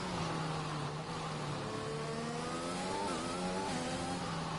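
Race car engine on a flying lap in a racing video game, set at an Australian circuit: a constant, loud engine drone whose pitch sweeps up and down through gear changes, with no talking over it.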